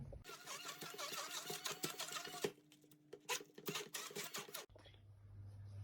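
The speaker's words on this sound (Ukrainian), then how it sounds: "Та все ретельно збиваємо за допомогою погружного міксеру." An immersion blender whips a cottage cheese mass with honey, a dense whirring buzz for about five seconds that cuts off into a low hum and faint handling noises.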